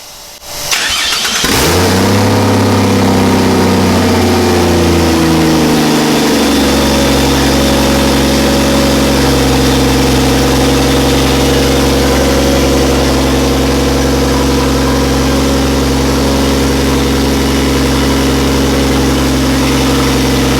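A Toyota 45/80 fitted with a Barra engine, turbocharged, cranks briefly and fires, then settles into a steady, loud, close idle with a deep even rumble that holds to the end, with no talking.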